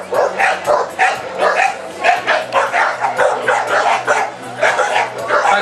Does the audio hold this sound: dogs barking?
yes